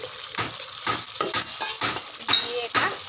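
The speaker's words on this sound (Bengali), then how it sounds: "মশলাটা ভালোভাবে কষানো হয়ে গেছে, মশলা দিয়ে তেল ছেড়ে দিয়েছে" Spice masala sautéing in oil in a pan, a close, continuous sizzle with rhythmic stirring scrapes every half second or so, no voices.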